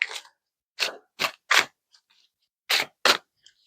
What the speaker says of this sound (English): Gosh, these cards don't really want to shuffle.